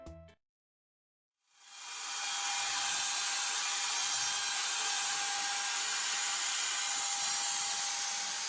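Power sanding of MDF panels for a camper van kitchen refit starts after a short pause, then runs as a loud, steady, hissing whir that holds without a break to the end.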